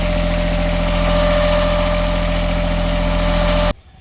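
A boat's port engine, with a slight difference in vibration and sound, idles close by with a constant low drone and vibration, then cuts off abruptly near the end, leaving quiet.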